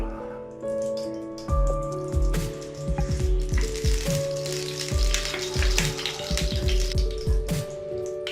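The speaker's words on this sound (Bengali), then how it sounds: "এবার ওই কড়াইয়ে দিয়ে দিচ্ছি সরিষার তেল" Mustard oil hissing and spitting in a wok, a loud close sizzle broken by bursts of sharp crackling pops, with a steady hum in the background and no talking.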